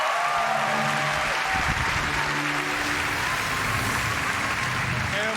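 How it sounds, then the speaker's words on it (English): Audience applause at a game conference in Quebec City, a steady broad wash of clapping from a large crowd filling the room throughout, with some faint voices mixed in. "Please give a warm applause to Marc-Alexis Côté"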